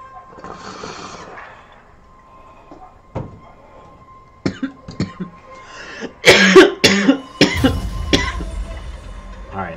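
Several sharp coughs, some close and loud, come in a burst toward the end during a gaming session, after quieter stretches with faint background sounds.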